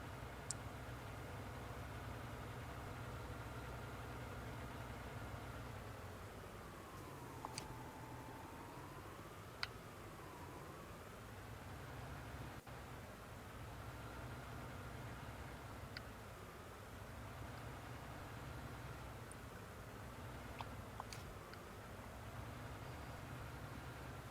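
A 42-horsepower tractor engine in the Farming Simulator 19 game drones at a steady idle-like hum, with a wavering tone sweeping up and down and a few faint ticks on top, constant and unbroken throughout.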